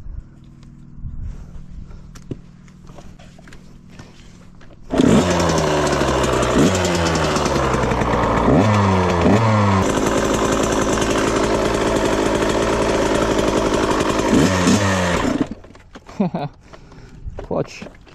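A $600 used dirt bike with a sticking clutch roars to life on its first ride, a loud raspy two-stroke-style engine revving up and down for about ten seconds, with talk before and after.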